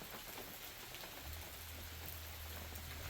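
Steady rain pours through a West Coast rainforest, a dense broadband hiss of drops hitting leaves and surfaces that runs unbroken and fairly close throughout, with a low hum entering partway through.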